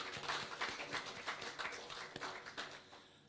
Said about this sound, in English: I think you deserve a round of applause from the audience